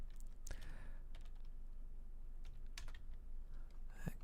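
Typing on a computer keyboard during Python coding work, with scattered clusters of close key clicks and a few sharper strokes, alone without talk.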